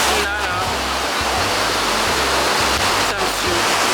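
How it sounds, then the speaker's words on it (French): Surf waves break at Ipanema beach in Rio de Janeiro, a surfers' beach, making a continuous broad roar of rushing water with a low rumble underneath, loud and steady for the whole stretch. "on est à la plage d'Ipanema et on a une plage de surfeurs. Et du coup, il y a grave des vagues."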